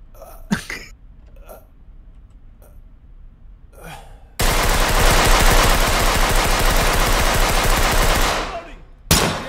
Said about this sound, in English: Is that you shooting at me?